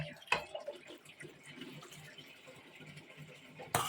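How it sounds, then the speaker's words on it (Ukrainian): Running water splashes and patters steadily at low level as mushrooms are rinsed, with a few drips and a louder clatter near the end. "І гарно промиваю."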